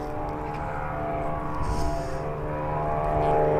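A small propeller aircraft at Birmingham airport sets up a steady, moderately loud engine and propeller drone that swells slightly toward the end, heard alone with no talking.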